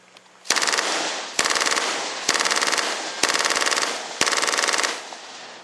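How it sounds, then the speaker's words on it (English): Light machine guns fired from bipods by an infantry squad, five long continuous bursts of rapid, rattling automatic fire separated by brief pauses, loud and close with no talking. "Those are the infantry squad's light machine guns."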